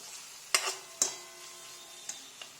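Chopped carrot, beans and capsicum fry softly in a pan, a quiet low sizzle broken by a few sharp clinks of a spatula against the pan, close and spaced out, with no talk.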